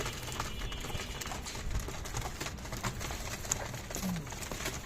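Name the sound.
pet pigeons cooing at feeding time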